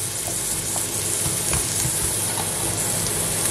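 Onions browning in a frying pan, a loud, dense, unbroken sizzle of hot oil with a few faint stirring taps, heard close up and alone.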